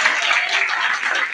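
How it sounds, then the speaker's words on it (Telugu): A church congregation at a prayer meeting claps loudly in a dense, continuous burst of applause that lasts just over a second. "చప్పట్లు కొట్టి గట్టిగా"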